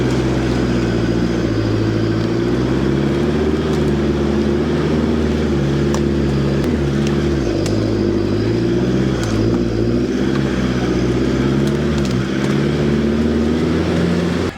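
A car drives along a slippery, muddy track, its engine a loud, steady drone with slight shifts in pitch as it labours, and no one speaks.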